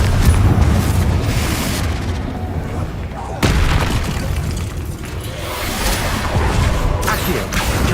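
A Confringo blast spell going off in the video game Hogwarts Legacy, loud booming explosion bursts with rumbling over a dense battle soundscape, one sharp new impact midway.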